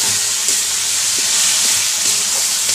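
Tomatoes dropped into hot oil in a frying pan for a thin potato and boal fish curry, giving a loud continuous hissing sizzle with faint spatula taps underneath, close and without speech.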